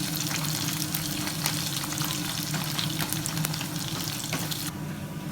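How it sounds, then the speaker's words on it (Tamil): Onions sautéing in a pan for Thanjavur puli kuzhambu give a loud, dense, continuous sizzle that stays steady almost to the end, with no voices over it. "இந்த வெங்காயம் கொஞ்சம் கலர் மாறுற வரைக்கும் நல்லா வதக்க போகிறேன்"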